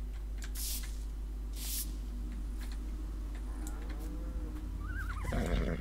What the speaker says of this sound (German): So, Pferd ist da.